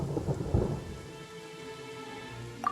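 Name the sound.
thunderstorm in Genshin Impact video game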